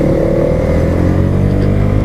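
QJMOTOR AX200S scooter accelerating from a traffic light, a loud close engine drone with a rising harmonic whine and slight clatter, heard alone.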